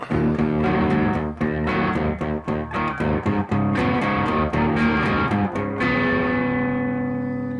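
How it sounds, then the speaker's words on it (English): An electric guitar with a humbucker pickup plays fast distorted lead riffs with heavy overdrive through a Behringer TO800 Vintage Tube Overdrive on the amp's lead channel, then rings out on a sustained chord that fades, loud and close. "that's the sound of the pickup on the lead channel"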